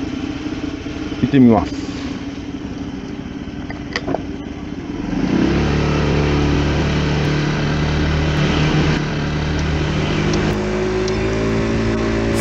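A new Honda Benly business motorbike idles in the rain, then its engine note rises into a steady, louder drone as it pulls away. Someone speaks briefly before it sets off.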